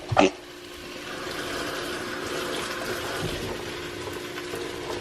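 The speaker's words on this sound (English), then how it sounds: "Actually, I'm gonna add a little bit of water" A brief clink, then a continuous stream of water pours steadily into a pan of pollo saltado for several seconds, close and moderately loud.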